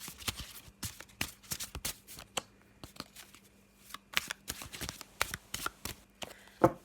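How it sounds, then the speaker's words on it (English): A deck of cards is shuffled by hand close up, giving repeated crisp riffling bursts in quick irregular succession with brief pauses between them. "Let me just have a little shuffle of this one."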